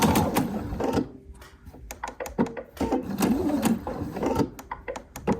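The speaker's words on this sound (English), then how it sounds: "I'm just doing a little back stitch" A sewing machine stitching back and forth on fabric, with rapid mechanical clatter coming in several bursts separated by brief pauses, close and fairly loud, no talking.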